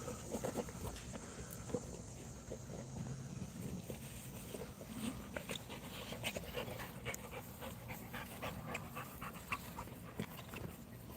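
Americano da Presa dogs pant steadily and close by outdoors for the whole stretch, with faint clicking steps and light rustling mixed in.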